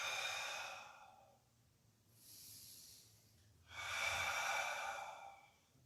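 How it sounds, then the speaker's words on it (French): A person breathes in and out during a Pilates mobility exercise: a long audible exhale, a pause, a softer inhale, then another strong breath, close and clear with no talking. "J'inspire."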